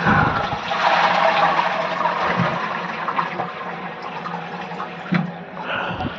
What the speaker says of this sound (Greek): πάμε να πατήσουμε το καζανάκι